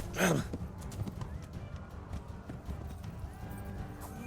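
In the video game Kingdom Come: Deliverance, a horse whinnies loudly near the start, then its hooves clop unevenly and close by over faint background ambience.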